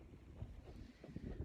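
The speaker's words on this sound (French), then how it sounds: "Il y a encore du vent, mais beaucoup moins qu'avant" Wind buffeting outdoors, a continuous low rumbling roar with gusty swells throughout, no talking.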